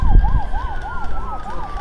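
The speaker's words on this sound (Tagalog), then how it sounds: "Yun, may ambulansya pa yata." An ambulance siren wails in a steady, repeating rise-and-fall pattern as it passes along a city street in Incheon, South Korea, loud and continuous over low traffic rumble.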